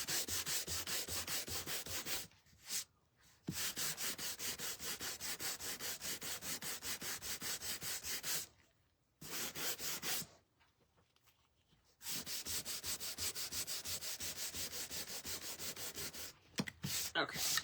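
Wood is sanded by hand to distress a wooden anchor wall hanging, a continuous rhythmic rubbing in quick strokes, broken by a few short pauses, close and fairly quiet.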